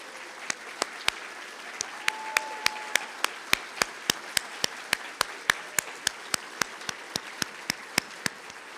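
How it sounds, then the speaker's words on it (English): Audience applause for military veterans at the Santa Ana State of the City 2025 civic event, a steady crowd wash with sharp, evenly spaced claps running through the whole stretch at moderate level. "please stand so that we can give you a round of applause."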